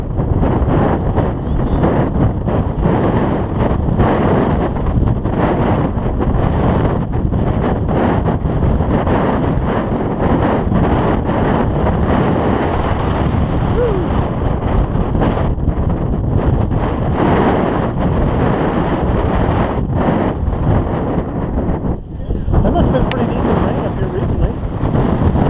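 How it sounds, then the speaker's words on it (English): Steady, loud wind buffets the microphone on a boulder-strewn hiking trail, a continuous roaring rush with gusty swells throughout and no clear speech. "And the wind is a lot less on the other side."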